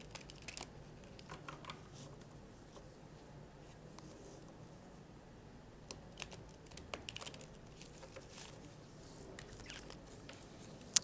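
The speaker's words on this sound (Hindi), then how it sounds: "शफल कर लेते हैं कार्ड्स को ज़रा।" Tarot cards being shuffled, a quiet run of soft riffling and tapping that is faint and close, with no voices over it.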